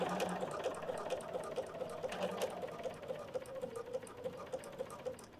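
A sewing machine stitching trim onto a pillow, running in a fast, even mechanical rattle with rhythmic needle clicks, fairly quiet and steady with no speech.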